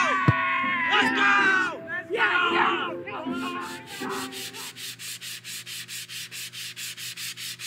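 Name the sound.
sanding something down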